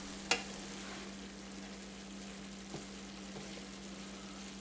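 Onions sizzling gently in a pan for a chili, a soft, steady fry with a low hum and one sharp clink of the spoon near the start, then another faint tap later.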